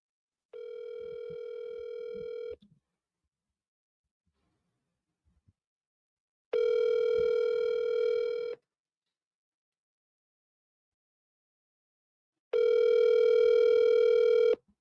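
Outgoing telephone call ringing tone, three steady two-second rings separated by about four seconds of silence, clear and moderately loud with no voices.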